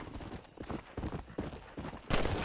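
Horse hooves clip-clop at a steady gallop in the Red Dead Redemption video game, rhythmic thuds close and fairly loud, ending in a burst of louder noise.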